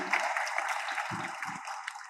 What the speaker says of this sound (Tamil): அதை நான் சொல்லும் போல கைதட்டுறீங்க இல்லையா